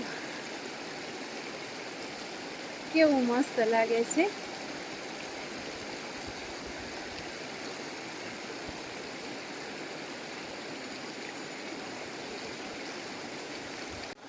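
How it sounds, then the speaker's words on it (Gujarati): A river flows gently with a soft, steady wash of water that holds faint and even throughout, and a voice speaks briefly near the beginning. "જોઈ લ્યો કેવી નદી શાંતિથી વહે છે"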